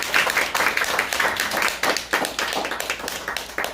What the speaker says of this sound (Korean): 박수가 한번 나와줘요